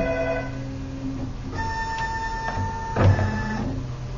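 An engraving machine with a spindle cutter drives back to its home position with a continuous motorized whine and steady stepper tones, which shift in pitch partway through and end with a brief clunk, and no voices.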